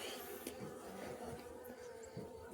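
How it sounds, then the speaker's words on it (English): Honey bees buzzing inside a hive box during an inspection, a faint continuous droning hum from a colony with no voices present. "The bottom box looks like it's kind of full of bees"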